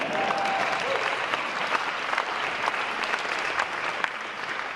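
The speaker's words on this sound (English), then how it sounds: "Can I have a round of applause?" A crowd applauds steadily throughout, dense clapping at a fairly even level with no voices standing out.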